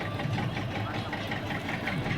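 A fishing boat engine runs steadily out at sea, a constant low rumbling drone with no breaks from start to finish.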